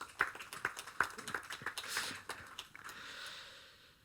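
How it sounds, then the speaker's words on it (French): Scattered hand claps from a small forum audience, a handful of sharp separate claps over roughly two seconds, then fading into quiet room noise. "Je crois qu'on peut applaudir."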